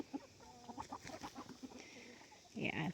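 Chickens on a small farm cluck and call softly in short irregular bursts, fairly faint and close, with a louder squawk near the end.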